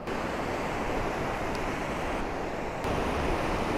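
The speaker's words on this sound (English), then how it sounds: "we made it to the beach, but this is where the river empties into the ocean" Steady, loud surf roaring where a river empties into the ocean on a Costa Rica beach, a continuous broadband wash with slight swells in intensity and some wind buffeting, no voices.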